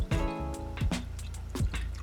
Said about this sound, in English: We'll stir that up too.